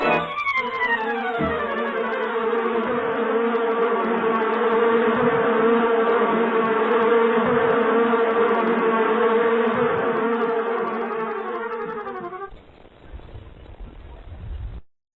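A dense, steady buzzing of cartoon bees close by, loud and continuous for several seconds before dropping off abruptly near the end.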